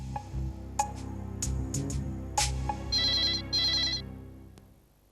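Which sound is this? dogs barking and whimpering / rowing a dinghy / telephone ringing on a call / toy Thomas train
telephone ringing on a call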